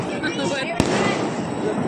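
Diwali firecrackers and fireworks bursting in a steady dense crackle, with one sharp loud bang standing out, while people talk nearby.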